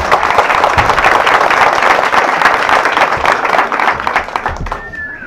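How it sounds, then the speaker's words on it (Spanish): Loud, dense applause from an audience at a gathering, sustained evenly for several seconds before easing slightly at the end. "Para él un fuerte aplauso, por favor."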